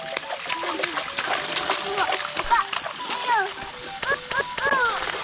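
Children splash and slosh in a swimming pool during a swimming lesson, with irregular close splashes throughout while kids and adults talk and call out over the water.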